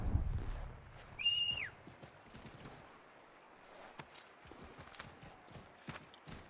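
Horse hooves clip-clop at a steady walking rhythm in the Assassin's Creed 3 Remastered video game, a brief whistle-like tone sounding early on and no talk over the hoofbeats.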